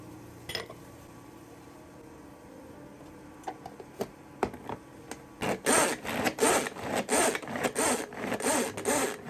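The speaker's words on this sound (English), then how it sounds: "After that I chop the tomatoes and add them to the masala." Knife chopping tomatoes on a board for a masala in a home kitchen, starting with a few sparse taps and then settling into a quick, steady run of close, crisp cuts with no talking.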